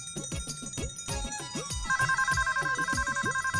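A mobile phone ringtone starts partway through and chirps in a rapid repeating electronic pattern, heard close over quick footsteps and clatter before it begins.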